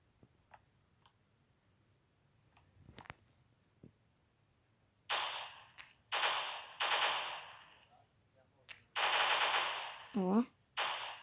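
Game gunfire from Cops N Robbers: quiet ticks early on, then loud rapid automatic bursts in several separate volleys, with a final burst overlapping a descending sweeping tone.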